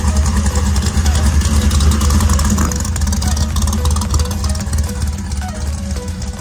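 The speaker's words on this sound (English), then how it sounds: "got a really nasty sounding old Ford F-150 Lightning" An old Ford F-150 Lightning truck with a ProCharged LS engine rumbles past close by at a car meet, a loud, steady low engine drone that eases slightly as it goes.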